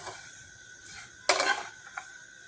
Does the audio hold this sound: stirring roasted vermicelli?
yes